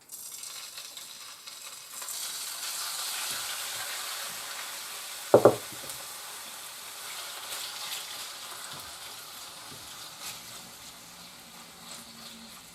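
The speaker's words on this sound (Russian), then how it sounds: "И жарим до испарения жидкости." Steady crackling sizzle of chicken breast frying in hot vegetable oil, continuous and moderate, with a brief clatter partway through.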